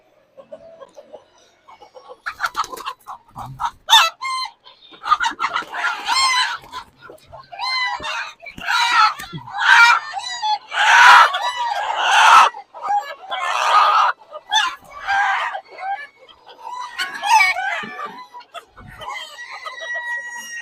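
Backyard chickens squawk and cluck loudly and continuously after one jumps out of its enclosure, with rooster-like crowing calls mixed in, close by and agitated over muddy farm surroundings.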